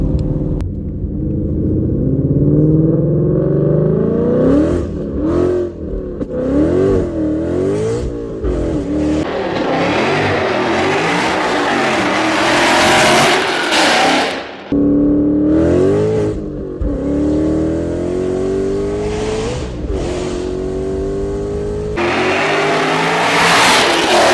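A powerful manual-transmission car engine revs hard and accelerates through repeated gear changes, a loud, close, continuous roar with rising and falling pitch sweeps and a brief lift near the middle.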